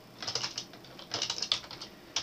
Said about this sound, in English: and you type that on your keyboard